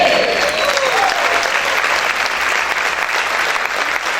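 Sustained, loud applause from a church congregation honoring the Lord, dense and steady throughout with a faint voice rising briefly near the start.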